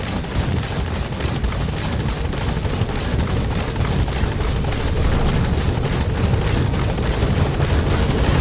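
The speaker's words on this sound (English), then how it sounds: "Support subject is helicopter in." Helicopter from the Metal Gear Solid 5 video game arriving at a landing zone, a loud, steady rotor roar with dense chopping texture held throughout, no voices over it.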